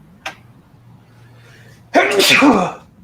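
A person sneezes loudly and close, a sharp burst lasting about a second after a quiet pause, with a small faint sound earlier; casual conversation surrounds it.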